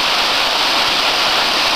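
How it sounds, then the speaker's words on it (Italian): The Fermona waterfall at Ferrera di Varese pours in a loud, steady, broadband roar that fills the whole moment without a break, with no voices over it. "La cascata Fermona."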